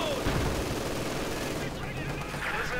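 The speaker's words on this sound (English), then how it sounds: "MG40 here blasting away at the conscripts and combat engineers" MG40 machine gun fire in a WWII strategy video game, a dense continuous rattle of rapid bursts that stays loud for the whole stretch with no voices over it.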